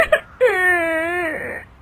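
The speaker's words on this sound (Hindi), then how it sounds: "तभी उसकी दादी सास को रोने की आवाज आती है" A woman's loud, drawn-out wail in a kitchen after a bag of flour spills over her, one sustained crying moan rising after a brief sob, with no talk.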